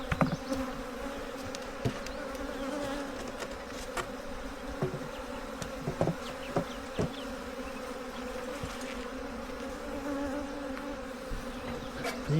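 Honeybees drone steadily around an opened hive during an inspection, a dense, close buzzing that holds level throughout with occasional louder passes of individual bees.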